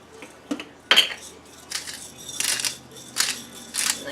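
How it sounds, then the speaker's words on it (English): Black pepper grinder cranked by hand a few times over potato salad, giving short gritty grinding bursts spaced in an irregular rhythm, close and fairly clear with light clinks between. "And I just do a few cranks of the black pepper."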